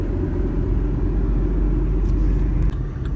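A car driving along a road, a loud, steady low rumble of engine and tyres heard from inside, continuous throughout with no talk.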